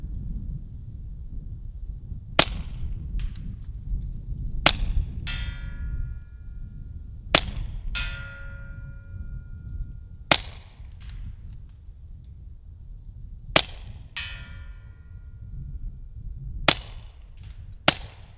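A suppressed Ruger Mark IV .22 LR pistol with a 4.5-inch barrel is fired at a 150-yard target: about seven sharp, muted cracks spaced two to three seconds apart, some followed by a brief ringing tail, in a quiet outdoor setting.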